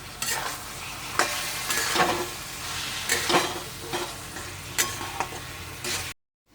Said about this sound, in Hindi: अब मैं इसमें छोले डाल दूंगी और इसे कम से कम 4 से 3 मिनट तक फ्राई करेंगे अच्छे से